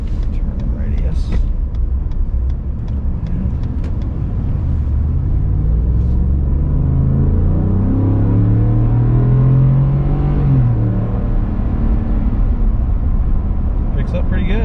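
A 2020/2021 Ford F150 pickup with the 5.0 V8 rumbles from inside the cab as the engine pulls and rises in pitch through acceleration before settling back, while people chat over the steady drone.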